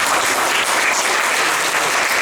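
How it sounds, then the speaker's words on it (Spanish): Church congregation applauding together, a dense steady wash of many hands clapping that holds at full strength for a couple of seconds with no pause. "Denle un aplauso al Señor."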